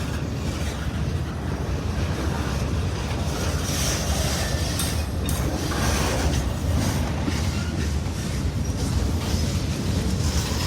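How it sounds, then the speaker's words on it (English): A long freight train rolls steadily past at close range, a dense continuous roar of wheels and rail noise with faint squeal and clatter, running loud and unbroken throughout without voices. "Not sure how long this train is today."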